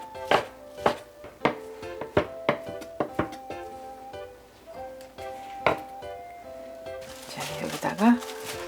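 Knife finely slicing shredded crab sticks on a cutting board, a brisk series of close, ringing taps with a slight resonant tone, slowing toward the end before a clatter of handling.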